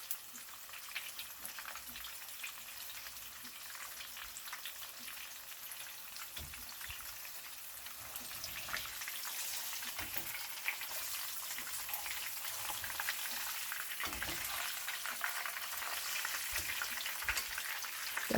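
Fish fries in oil with garlic and pepper in a small pot for Jamaican escovitch fish, giving a steady crackling sizzle with scattered pops that grows slightly busier over time, with no talking.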